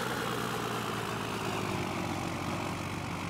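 A truck engine idles in Farming Simulator 15 during snow removal, giving a steady, loud, unbroken drone with no changes in pitch or rhythm and no voices over it.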